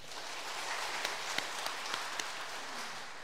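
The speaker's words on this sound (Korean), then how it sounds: "다시 한번 격려 박수 보내드립시다." A Korean church congregation at a Sunday service gives fairly faint, steady applause after a youth choir's hymn, with a few sharper individual claps standing out.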